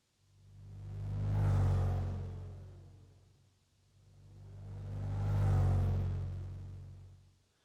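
A synthetic robotic sound built with a granular engine swells up and fades out twice in long rumbling, whirring waves, like an engine revving past and receding, alone with no voices.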